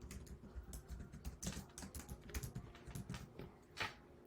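Typing on a computer keyboard, with quick irregular keystroke clicks in steady bursts, close and clear, and no one talking.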